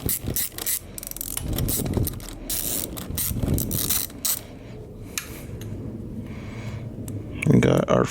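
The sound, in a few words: ratchet with 10mm socket and extension removing Yamaha Virago carb screw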